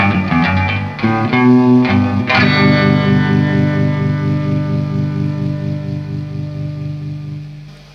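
An electric guitar plays through a Fender Tre-verb amp with reverb, a few quick picked notes followed by a ringing chord that sustains and slowly decays over several seconds.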